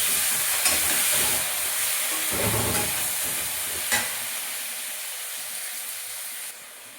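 Radish and eggplant fry in a pan with green chili paste, salt, turmeric and cumin paste, giving a steady close sizzle and hiss that runs throughout, with a few soft stirring knocks and no talking.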